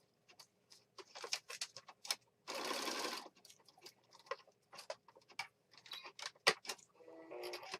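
A sewing machine stitches a junk journal page in short separate bursts with pauses between them, and one longer steady run in the middle.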